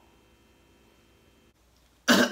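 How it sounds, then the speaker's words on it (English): Near silence, then a single loud, harsh cough from a man bursts out close by at the very end. "Oh, hell no. He's coughing."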